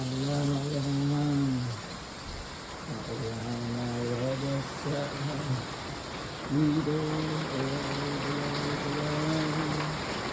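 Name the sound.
rain outside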